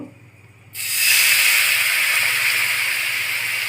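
Water hits a hot pan holding aloo kulcha and bursts into a loud, sudden hiss that holds at a steady, close sizzle after a short quiet start.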